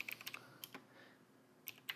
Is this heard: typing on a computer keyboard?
yes